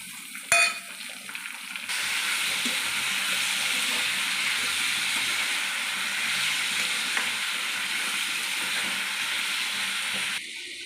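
Chopped tomatoes with dried red chillies sizzling steadily in a hot pan for bisi bele bath, a continuous close frying hiss after a brief clatter at the start.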